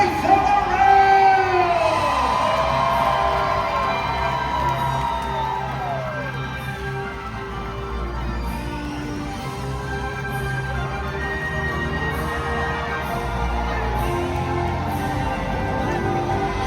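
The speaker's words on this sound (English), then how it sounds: "raise up a mighty cheer for all of" Large arena audience at a Medieval Times dinner tournament roaring and whooping for the knights, a loud sustained crowd cheer with yells and shouts that slowly tapers but stays steady throughout.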